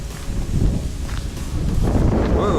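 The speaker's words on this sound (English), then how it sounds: "Whoa, getting really windy." Strong wind buffeting an outdoor microphone, a loud continuous rumbling roar with gusty swells and no speech.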